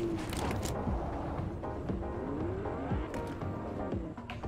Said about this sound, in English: I hear the battle bus. It's right next to us.